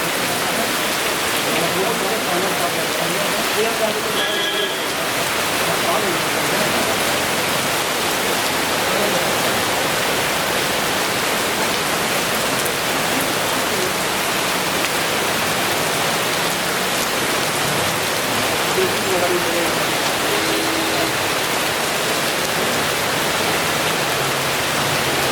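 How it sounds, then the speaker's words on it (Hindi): Light intermittent drizzle in Gorakhpur city, a continuous broad hiss of rain on surfaces lasting throughout, with faint voices in the background. "रुक रुक कर रिमझिम बारिश काफ़ी लोगों को आनंद देते हुए दिखाई दी।"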